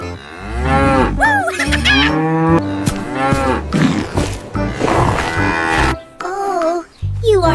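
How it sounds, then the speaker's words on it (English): A cow on a farm in an animated children's story moos repeatedly, loud, close and drawn out, the calls overlapping one after another through the whole stretch. "Oh, you are such a good cow."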